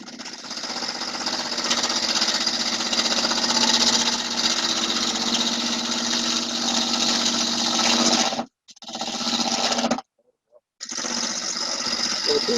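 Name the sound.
wood lathe turning a three-sided bowl at speed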